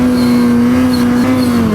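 A 2021 Ski-Doo Summit Expert 850 Turbo snowmobile engine holding a loud, steady high-rev drone up close on snowy mountain terrain, its strong tonal whine dipping slightly near the end.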